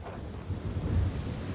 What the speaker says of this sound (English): Ooh, this is windy.